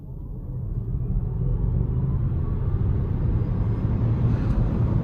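A 2022 Volvo C40 Recharge electric car accelerates hard, a steady low rumble of road and motor noise that builds and holds loud for several seconds with no voices.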